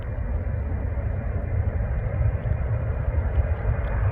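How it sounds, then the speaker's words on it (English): Jet aircraft roar steadily and loudly at an airport as planes land and take off, a broad continuous rumble with no voices over it. "I'll just do a few recordings of the planes landing and taking off."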